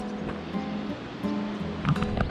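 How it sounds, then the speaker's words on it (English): Sea waves wash against the coast of a Spanish town on the Portuguese Way coastal route, a steady broadband roar of surf with soft rises and falls, fairly close and continuous with no talking. "You can hear the sea."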